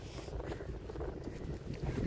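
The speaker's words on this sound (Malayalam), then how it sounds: "നല്ല നല്ല നല്ല കാറ്റുണ്ട് കേട്ടാ" Steady wind buffeting the microphone, a continuous low rumble with gusty swells, loud and close throughout, no voices.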